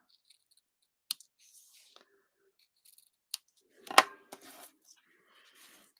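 Ribbon tails on a small bow being trimmed with scissors: a few sparse, crisp snips and clicks close by in a quiet room, one louder cut near the middle with a short rustle after.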